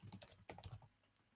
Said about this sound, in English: typing this